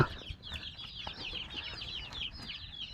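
Backyard hens and chicks clucking as they come out of their coop, a steady chatter of overlapping calls close by with faint background noise and no talking.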